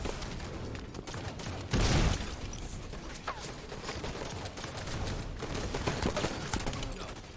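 Dense, rapid gunfire from a weapon in the video game Halo 5 crackles continuously, with a heavier burst early on and a steady barrage throughout, loud and close, with no speech.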